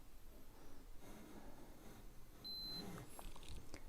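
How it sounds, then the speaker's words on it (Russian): A FNIRSI WD-01 wall scanner detector gives a short, thin electronic beep over quiet room noise as it passes over a wooden stud, with faint handling sounds around it. "Вот я подношу, пищит на центр"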